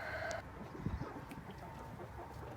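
Backyard laying hens cluck and murmur at low volume, with a short higher call near the start and soft, scattered clucks after it, heard alone with no talking.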